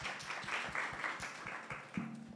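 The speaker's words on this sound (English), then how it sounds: "please give them a round of applause once again" Audience applause at a media exhibition: quick, crisp claps in a steady patter, moderately close and fairly quiet, briefly joined by a faint voice near the end.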